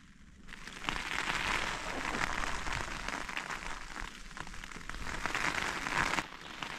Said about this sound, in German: Und jetzt fängt es an zu regnen